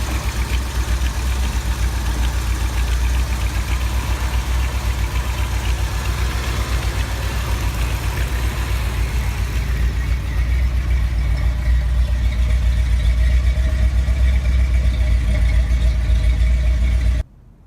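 A 1970 Ford F250 truck engine idles steadily while warming up, a continuous low rumble with mid-range mechanical clatter that holds even throughout before cutting off abruptly at the very end; no voices.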